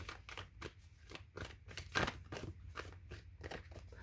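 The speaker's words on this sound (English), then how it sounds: "So now I'm going to go ahead and start shuffling." Crystal tarot cards being shuffled by hand, giving a quick run of close, crisp clicks and crinkly snaps in an irregular rhythm with no talking.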